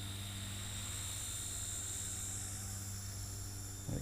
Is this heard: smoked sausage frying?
no